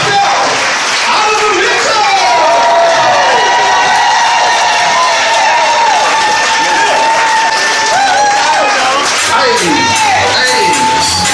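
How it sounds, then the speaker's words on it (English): Comedy club audience cheering and applauding for a stand-up act, a loud dense wash of clapping with whoops and shouts running steadily throughout, voices mixed into the crowd noise. "if y'all who recognize me, give them a round of applause"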